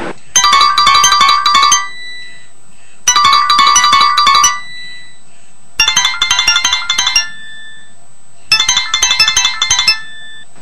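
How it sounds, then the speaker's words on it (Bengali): A phone ringtone plays four bursts of a bright, repeating electronic melody, each lasting about one and a half seconds with short silent gaps between them. It is loud and close, with no voices over it. "ফোনটা ধর।"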